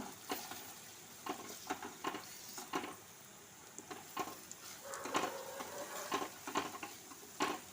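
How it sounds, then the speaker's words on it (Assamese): Egg bhujia, four eggs, fries in a pan, with a quiet background sizzle broken by frequent sharp spatula taps and scrapes in an irregular rhythm. "যিহেতু কণী ভুজিয়া বনাইছোঁ সেইকাৰণে অকণমান ৰঙা হোৱালৈকে ভাজিব লাগিব।"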